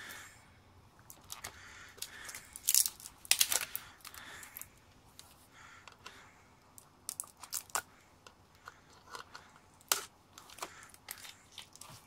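Tools cut apart a MacBook Pro battery, producing faint, irregular crunching, snipping and crinkling bursts with scattered sharp clicks, close by and without talk.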